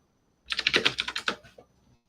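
Quick burst of about ten close keystrokes on a computer keyboard typing a short cd command, crisp clicks in a tight run lasting about a second, then quiet.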